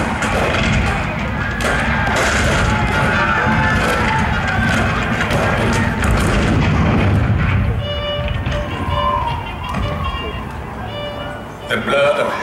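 Civil War cannon fire at Fort Sumter, a dense barrage of heavy booms and thuds that rumble on steadily, then thin out toward the end, with voices underneath.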